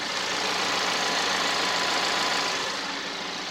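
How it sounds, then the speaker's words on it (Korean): A Genesis G70's engine idles with a steady, even hum and faint mechanical whir, recorded close up and unchanging throughout, with no voices. "엔진 소리 한번 같이 들어볼게요"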